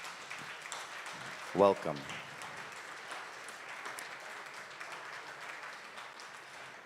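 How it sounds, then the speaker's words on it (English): A church congregation gives a brief round of applause welcoming first-time visitors, a short burst of clapping with a voice speaking just before it and softer murmuring and speech around it. "receive this warm CSL round of applause to welcome you"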